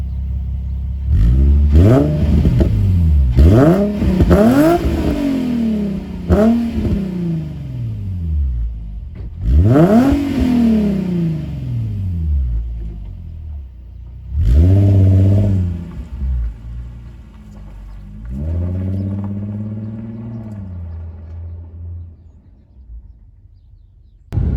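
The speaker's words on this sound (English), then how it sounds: "And this is what it sounds like with the Stillen Cat-back exhaust." A 2008 Infiniti G35xS with a Stillen cat-back exhaust, deep and throaty, revs sharply several times, each blip rising and falling, then drops back to a low idle burble.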